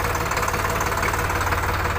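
A heavy-duty 39 HP Sonalika Sikander RX 35 tractor, pulling a fully loaded trolley, runs with a steady, close diesel chug and a knocking rhythm that holds even for the whole stretch, with no talking.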